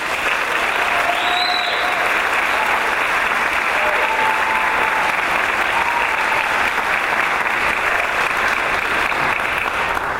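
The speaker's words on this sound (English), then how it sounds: "I'd like to have a round of applause for all of our outstanding 8th graders this year" A large concert crowd applauds continuously for a children's choir's 8th graders, a dense, even wash of clapping that holds steady at full volume throughout.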